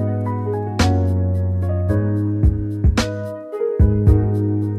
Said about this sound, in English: at last I made a very simple bass pattern which sounds like this